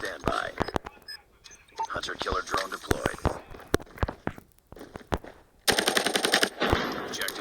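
Rapid automatic gunfire and single shots from the mobile shooter game Call of Duty Mobile, loud and dense in bursts, with a player talking and exclaiming over the shooting.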